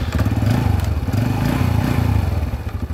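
A motorcycle engine runs just after an oil change, a loud, close, steady idle with rapid regular pulsing and a mechanical clatter throughout, with no voices.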